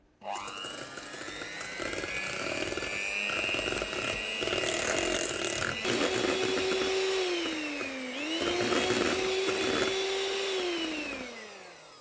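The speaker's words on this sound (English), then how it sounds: "I want to whisk these until they're about double in size and light and fluffy." An electric mixer whisks eggs until they turn light and fluffy for molten chocolate cakes, giving a steady loud whine that shifts pitch as the speed changes and then runs down at the end.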